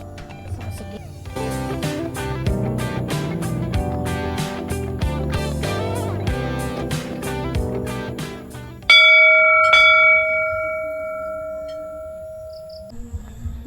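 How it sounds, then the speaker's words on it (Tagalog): A bell at a wishing well is rung once near the end and rings out clear and loud, fading slowly after a rhythmic musical passage. "So drop your coin, say your wish, and ring the bell."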